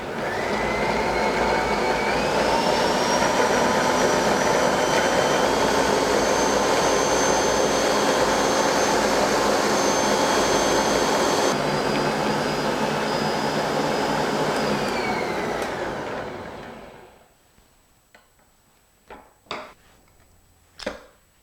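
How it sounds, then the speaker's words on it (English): A stand mixer whips egg white into meringue with a loud, steady motor whir that rises in pitch as it speeds up, runs for about sixteen seconds, then cuts off, leaving a few soft clicks. "I'm going to start by just adding this egg white to the mixer, and as you know, of course, that's really going to make meringue"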